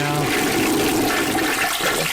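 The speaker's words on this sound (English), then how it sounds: "See, look, when I flush it, I'm flushing it right now." A household toilet flushing up close, a steady loud rush of water swirling and draining through the bowl for the whole stretch, with no voices over it.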